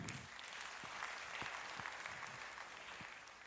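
A church congregation claps for God during a Kinyarwanda sermon on discipleship. Applause is continuous and moderately distant, with scattered sharp claps over a low room wash, and it continues from start to end.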